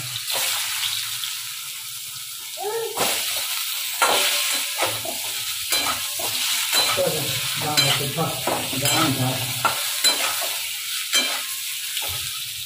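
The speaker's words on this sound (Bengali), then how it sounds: "ডিমটা ভাজা হয়ে গেছে" Egg frying in a pan for a home-cooked meal, sizzling steadily at close range with intermittent stirring and scraping clatter and a few faint watery splashes, no talk.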